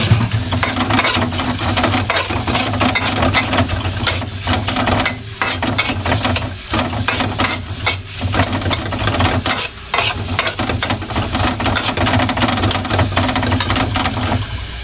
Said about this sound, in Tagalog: Ilagay po natin yung ating sibuyas. Mix po yung ating bawang.